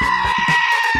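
Goat bleating at a zoo, a steady nasal cry with wavering tone that holds for about a second, close and loud.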